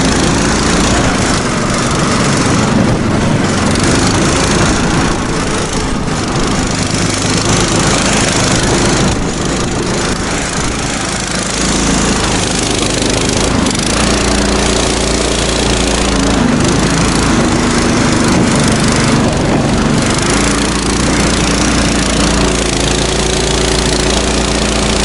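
A small engine vehicle revs hard while trying to drive through snow, its loud buzzing motor droning continuously and rising and falling as the wheels slip and spin, close to the microphone with no talk.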